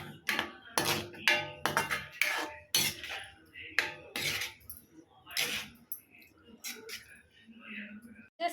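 Utensil stirring paneer butter masala gravy with added milk in a pan, repeated quick scraping and clinking strokes in an irregular rhythm, close by, with a voice talking over parts of it.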